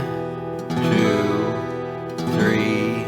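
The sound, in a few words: guitar chords strummed slowly, keeping steady timing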